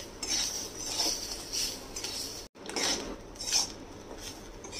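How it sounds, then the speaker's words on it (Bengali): Grated coconut stirred and fried in a pan while cooking cluster beans, giving repeated close scraping and clinking strokes of a utensil against the pan over a steady sizzle, with one brief break midway. "এইটাকেও ভালো করে ফ্রাই করে নেব"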